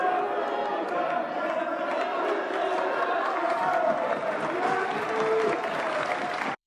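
Sustained applause fills the French National Assembly chamber, a dense, loud wash of many hands clapping with crowd chatter and voices mixed in, steady throughout before cutting off abruptly.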